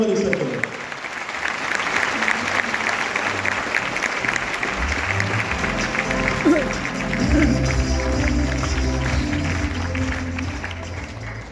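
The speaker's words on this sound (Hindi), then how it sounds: "मैं चाहूंगा जोरदार तालियां होनी चाहिए मनोज मलिक सर के लिए" Loud, sustained applause from a large audience at a Modicare business event in Jaipur, continuous crowd clapping that fills the room and swells slightly toward the end, with faint background voices underneath.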